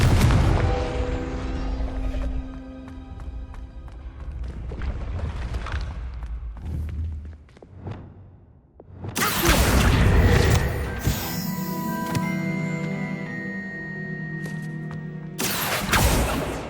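A Confringo blasting spell explodes in Hogwarts Legacy, with loud booming bursts that roar out in the middle and again near the end over a continuous game soundscape.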